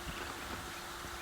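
Horse hooves clip-clop at a steady walking pace in the Red Dead Redemption video game, close and continuous through the moment, with no clear whinny standing out.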